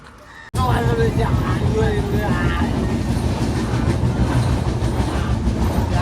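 A train rumbles steadily along the rails, a loud continuous roar with faint clattering, starting abruptly after a quiet moment and carrying on without pause.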